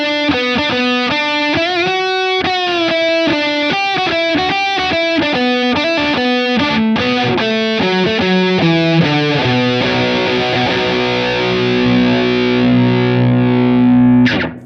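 Electric guitar played through a TC Electronic Spark Mini booster pedal with its knob at zero, giving loud, distorted, sustained chords and runs that ring close and steady throughout.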